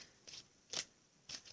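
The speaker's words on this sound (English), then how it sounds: "I try to give it a few shuffles" Tarot cards are shuffled in three quick, soft riffling bursts at a steady, unhurried pace, close and quiet with no voices.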